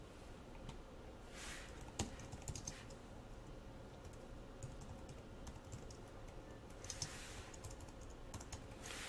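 Typing on a computer keyboard while writing JavaScript code, soft close key taps in irregular bursts with a few sharper keystrokes, quiet and without speech.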